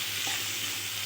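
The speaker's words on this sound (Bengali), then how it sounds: "আমি পেঁপেগুলো আগে ভেজে নেব" Papaya pieces frying in a pan with salt and turmeric, a steady close sizzle with a faint stir, no talking.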